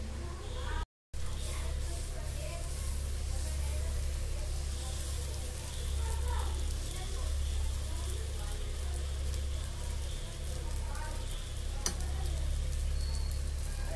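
Multigrain dosa batter, unsalted, sizzling steadily on a hot pan, a continuous close hiss with low hum underneath and a brief dropout near the start.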